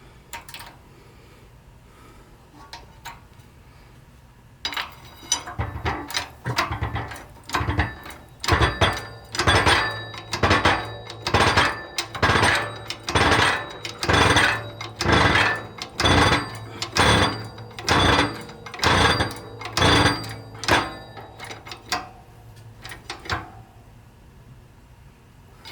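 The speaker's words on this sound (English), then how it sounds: "So we're going to press this bearing down until it stops." A bearing is pressed onto the mainshaft of a Ford tractor 5-speed transmission, giving a run of about twenty evenly spaced sharp metallic knocks after a quiet start, loud and close with no talking.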